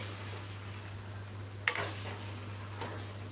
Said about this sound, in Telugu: మనం ఇలా మొత్తం పీసెస్ మొత్తం కూడా ఆయిల్కి పట్టేటట్టు ఇలా కలిపేసుకోవాలి